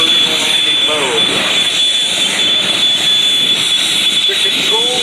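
A loud, steady whine from an MV-22 Osprey tiltrotor aircraft in short takeoff vertical landing mode at an air show, with a high-pitched turbine tone over a churning rotor roar, close by and continuous.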